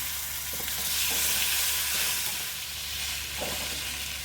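Boiled pumpkin pieces sizzle steadily in a hot tempering, with the hiss of frying filling the background and a few soft scrapes of stirring.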